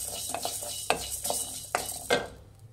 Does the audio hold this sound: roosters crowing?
no